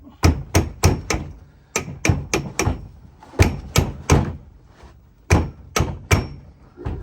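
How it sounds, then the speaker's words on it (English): Sharp hammer taps on the metal roller of a California Trimmer reel mower arrive in quick bursts of three or four, separated by short pauses. They ring close and loud with no voices. "it may just require a couple taps on the hammer here."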